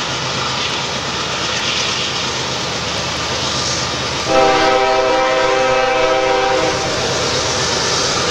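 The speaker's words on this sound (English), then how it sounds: "Herzog train." A Herzog work train passes near Altoona with a steady rumble of wheels and engine. Partway through, a loud, sustained multi-tone horn sounds for about two seconds and then stops while the train keeps rolling.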